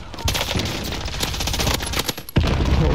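Rapid automatic gunfire in Call of Duty Warzone crackles in dense bursts, loud and close, with a short lull before a heavy final volley.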